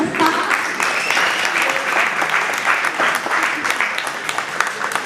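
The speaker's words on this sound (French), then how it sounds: "applaudissez pour vous-même" Sustained applause from a crowd, dense steady clapping filling the whole stretch without pause.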